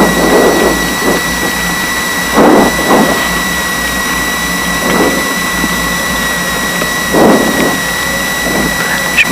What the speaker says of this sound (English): we're going to run up the engine